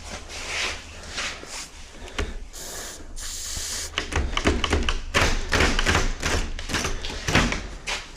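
A stuck door lock on a cracked, worn door being sprayed with lubricant during a locksmith job, heard as close hissy spray bursts mixed with repeated taps, clicks and dull knocks against the lock and door, with no talking.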